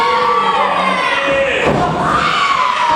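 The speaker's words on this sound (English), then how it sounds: "the crowd's getting behind Mike Blade right now. Starting to cheer" A crowd at a small independent wrestling show cheers and shouts for a wrestler, with loud, close, overlapping yells that swell and shift over a few seconds of dense noise.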